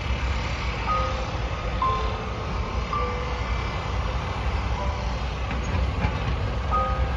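Water tanker truck spraying water to keep down dust at the Akbelen mine site, a steady low engine drone with intermittent beeping tones over constant rumble and no talk.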